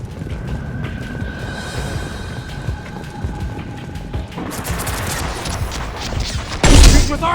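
Rapid sci-fi gunfire from Mass Effect 2 rattles steadily through a firefight scene, with a louder heavier burst near the end, all beneath a constant backdrop of game noise.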